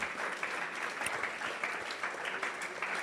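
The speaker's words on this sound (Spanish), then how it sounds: "Aplausos para el Señor esta mañana." A church congregation claps steadily during a Sunday morning service, a fairly quiet, continuous patter of many hands heard at some distance with no voices over it.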